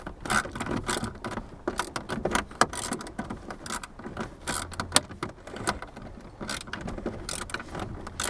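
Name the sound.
ratchet turning a socket on Jeep TJ blower resistor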